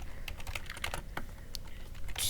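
Quick, uneven keystrokes on a computer keyboard tap out a short burst of typing, close and fairly quiet, with no voices over it.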